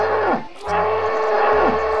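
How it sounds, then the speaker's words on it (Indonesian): Deep water buffalo moos from the dinosaur-park game Jurassic World Evolution 2, three drawn-out low calls in steady succession, loud and close with short gaps between them. "Dan yang terakhir, satu ekor kerbau nih teman-teman."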